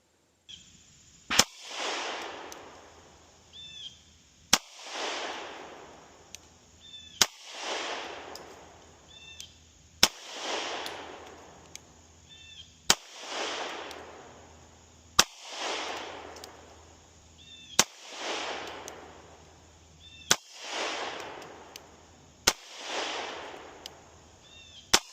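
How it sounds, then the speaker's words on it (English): HK CC9 9mm pistol firing Federal HST 124 gr +p rounds at a range, sharp single shots spaced a few seconds apart, each ringing out with a trailing echo, heard about ten times. "I'm gonna do a 10-shot group"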